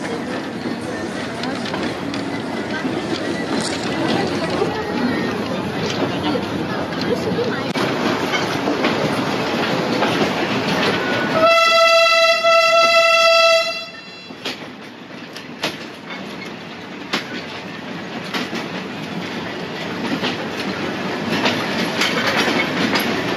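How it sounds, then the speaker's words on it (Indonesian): A 100-year-old tourist train rumbles along the line from Ambarawa toward Tuntang with a continuous rolling roar, broken midway by a loud, sustained whistle-like tone before the running noise resumes. "tujuannya kereta api wisata ini dari stasiun Ambarawa sampai ke stasiun Tuntang"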